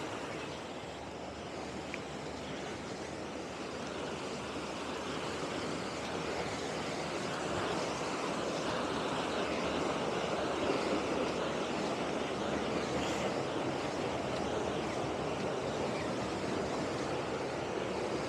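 A fast-flowing, flooded stream on a lane walk has undercut the footpath, producing a constant broad rushing wash that stays even and moderately loud throughout, with no voices.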